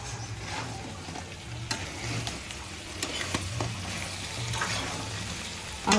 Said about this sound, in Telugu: కారం కూడా వేసుకున్న తర్వాత ఒకసారి కలుపుకుందామండి